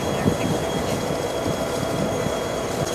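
A train rumbles steadily nearby, its loud, continuous rolling noise filling the scene with faint rhythmic clatter underneath.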